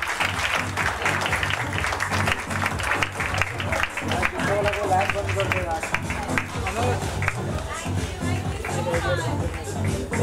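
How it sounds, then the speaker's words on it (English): Applause from the audience at a Walk for Pride fundraiser show rises under a loud music backing and a speaking voice, staying dense and continuous throughout. "For this awesome lineup, let's keep that applause going"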